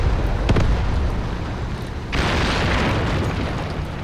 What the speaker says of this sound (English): The artillery is a bit annoying